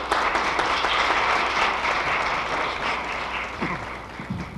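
An audience at a forum applauds, a dense, sustained wash of clapping that tapers slightly toward the end.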